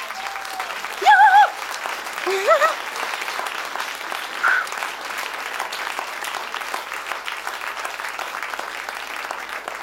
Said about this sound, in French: avec Monsieur Philippe Guillemont, je vous demande de l'applaudir une fois.